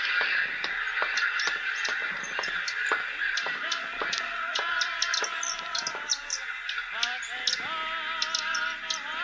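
Radio drama sound effect of a flock of crows cawing, many harsh overlapping caws in quick irregular bursts over a steady hiss, loud and near with no speech.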